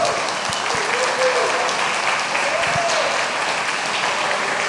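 A church congregation applauding, dense and sustained clapping that fills the room evenly from start to finish.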